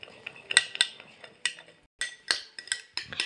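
A spoon stirring salad dressing in a bowl for an Easter cornmeal ball recipe, making close, irregular clinks and scrapes against the bowl with short pauses between bursts.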